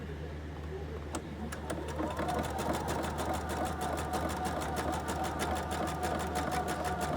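A sewing machine runs a zigzag stitch while making a small fabric monster case, giving a steady rapid mechanical chatter with an even ticking rhythm over low motor hum, close and moderately loud.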